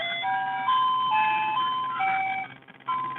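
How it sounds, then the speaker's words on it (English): An ice cream truck plays its tinkling electronic jingle, a steady melody of bright tones that cuts out briefly and then resumes, heard clearly with no talking. "And that's the ice cream truck."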